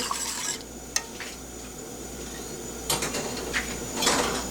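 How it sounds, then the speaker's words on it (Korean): A wooden spoon stirs a flour paste in a pot for yeolmu kimchi, soft scraping swishes coming in short bursts against a low background hiss, with a sharp knock early on, close and unaccompanied by speech. "자 그리고 나무 수저로 이렇게 저어줍니다."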